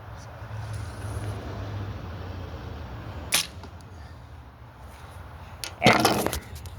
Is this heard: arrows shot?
yes